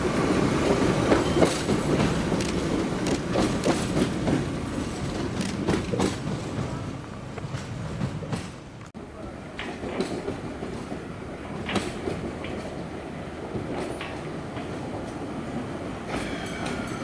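A London Underground 1938 Tube Stock train running on the Isle of Wight railway, heard close with steady rumbling motion, rhythmic wheel clatter over rail joints and occasional squeals, sustained throughout without talk.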